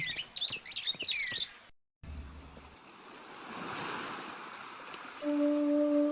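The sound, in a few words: river flowing water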